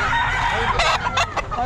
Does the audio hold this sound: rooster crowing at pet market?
yes